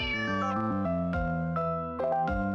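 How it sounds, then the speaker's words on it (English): A cat in Star Apprentice meows several times in a row, clear and close, its drawn-out tonal cries following one another with short gaps and no talk over them. "There's a cat."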